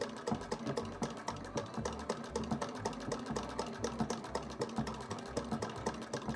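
A century-old Singer 99K sewing machine converted to hand crank stitches at a small stitch length, giving a fast, even run of mechanical clicks and a low whir.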